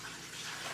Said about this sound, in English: look at that water pouring down.